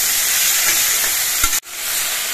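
Vegetables with green chillies and salt fry in a pan, a steady loud sizzle with stirring scrapes, a brief clatter near the end, then a short drop before the hiss resumes.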